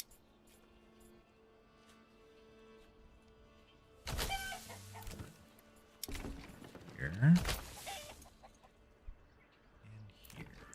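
Chickens cluck in the medieval city-building video game Manor Lords, a few short clucking bursts over quiet ambient game sound, with someone talking at moments.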